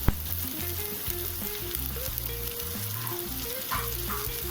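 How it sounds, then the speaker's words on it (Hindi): Roughly chopped onion and capsicum sizzle and fry steadily in a hot pan, a close, continuous crackle with no voices. "तो चलिए इसे भी थोड़ी देर सौटे कर लेंगे"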